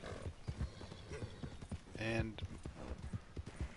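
Horse hooves galloping in the video game Red Dead Online, a fast, steady clip-clop rhythm that continues under a voice, with a brief louder horse sound in the middle.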